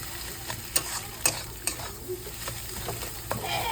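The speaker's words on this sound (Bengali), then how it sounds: "ডিমগুলো এবার ভালো করে মানে পুরো পেঁয়াজের সাথে মিশিয়ে নিল" Gentle, quiet sizzling of eggs mixed with onions in a frying pan, broken by a few soft spatula scrapes and taps as they are stirred, with no talking.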